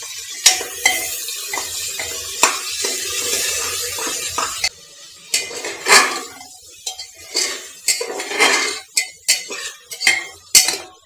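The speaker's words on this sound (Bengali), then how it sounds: "মাংসটাকে লবণ হলুদ দিয়ে ভেজে নিব।" Chicken pieces seasoned with salt and turmeric fry in a pan, with loud metal spoon scrapes and clanks against the pot over a light sizzle, dense at first, then in separate irregular strokes.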